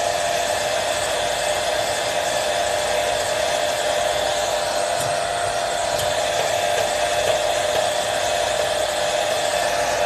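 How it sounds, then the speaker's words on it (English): A hair blow dryer runs steadily with a constant, loud whooshing whir and no pauses. "take your blow dryer,"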